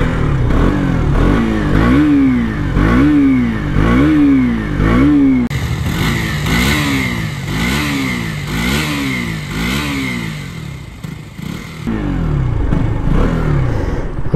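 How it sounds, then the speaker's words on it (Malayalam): A 2024 KTM RC200 motorcycle revved repeatedly, its exhaust note rising and falling in rhythmic bursts, loud and close, with no talk over it. "ഞാൻ വണ്ടിയുടെ എക്സോസിനോട്ട് വേണമെന്ന് കേൾപ്പിച്ചു തരാം"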